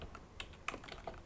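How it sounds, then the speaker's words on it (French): A web address typed on a computer keyboard in Excel 2013, a few soft, scattered keystrokes, faint and close with no talk. "Ici, on tape le nom"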